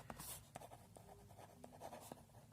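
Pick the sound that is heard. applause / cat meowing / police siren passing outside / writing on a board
writing on a board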